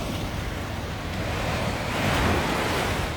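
Sea waves wash over feet at a beach shore, a steady foamy surf hiss with wind noise on the microphone, swelling slightly near the end, with no talking.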